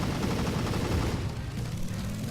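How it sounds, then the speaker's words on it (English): Machine gun on the Brawler Bandit Mk1 bike in Garry's Mod, firing in a dense, continuous rattling burst that holds steady and loud throughout, with no voices. "we also have a machine gun"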